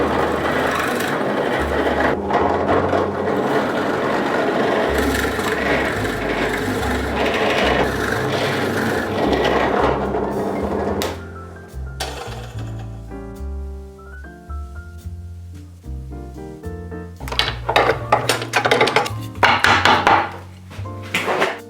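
A drill press bores a hole in a clamped block of wood in a shoe-making workshop, a loud continuous grinding rasp with the motor whirring, easing off midway and then roaring back, with no talk.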